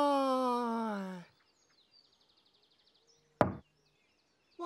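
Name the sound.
knocking on a door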